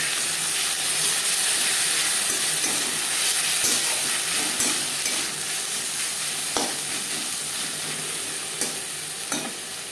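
Chopped onions, slit green chilies and ginger-green chili paste fry in a pan while being stirred, giving a loud, steady close-up sizzle with scattered scraping taps from the spoon.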